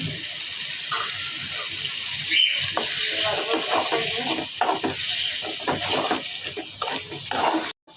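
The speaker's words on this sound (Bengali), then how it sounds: "তো মশলাটা তো ভালোভাবে কষাই নিচ্ছে" Spice paste with salt, chili powder and turmeric frying in a pan for a village chicken curry, a steady sizzling hiss with watery bubbling and scraping, heard near and continuous with a brief cutout at the end.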